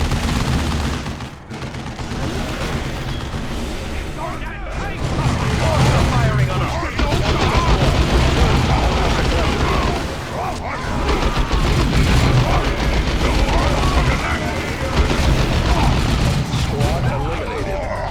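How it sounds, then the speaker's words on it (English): Orks open fire in Dawn of War 2 with loud, sustained volleys of gunfire and booming impacts across a chaotic battle. The shooting runs almost unbroken, with voices heard over it. "Orcs are firing"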